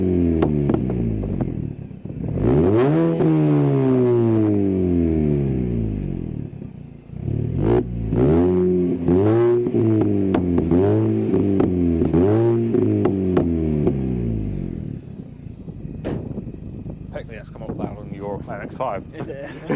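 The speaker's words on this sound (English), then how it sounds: "We'll let the exhaust get warm and then we'll give you some proper sound tests and checks with it." A Mini fitted with an aftermarket exhaust revs hard several times, each rise falling back to idle, then a string of quicker throttle blips and a settling idle, loud and close.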